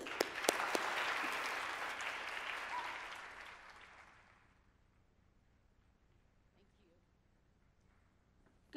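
Audience applause welcoming a speaker to the stage at a talk on implicit racial bias, a dense burst of clapping that fades away over about four seconds, leaving a quiet room with faint shuffling.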